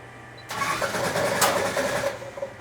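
A supercharged 1962 Slant Six engine on a dyno catches after a quiet start, breaking into a loud, steady rumbling run with a sharp burst partway through as it fires through the carburetor.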